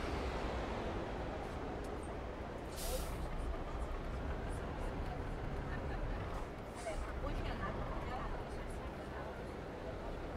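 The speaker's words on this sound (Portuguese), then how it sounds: "então nós criamos um som de motor pra ele" Bus engine from a sound mod in Euro Truck Simulator 2, a steady low diesel rumble with a brief hiss of air near the start, heard under background passenger chatter inside the cabin.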